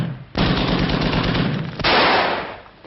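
Machine gun fire in a 1943 war film, two sustained rattling bursts, loud and close, the second starting just before the two-second mark and fading out.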